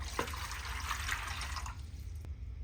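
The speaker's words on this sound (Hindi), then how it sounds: "अब यहाँ पे मैं पानी डाल दूंगी" Water poured into a container in a home kitchen while storing cilantro, a steady splashing flow lasting under two seconds before stopping, heard close and alone.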